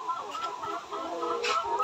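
Young laying hens around 130 days old cluck steadily inside a laying shed, a busy overlapping chorus of many birds with a louder call near the end.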